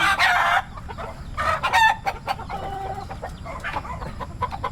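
Roosters crow in loud, drawn-out calls while hens cluck in short bursts over steady outdoor farmyard noise.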